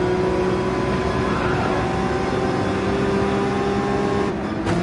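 A race car engine in Gran Turismo 7 screams at sustained high revs, over-revved in fourth gear, loud and steady throughout with a brief dip near the end.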